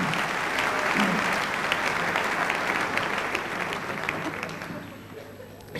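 A live comedy audience at a 1987 Harry Enfield stand-up show gives dense, loud, sustained applause that fills the room and slowly thins toward the end.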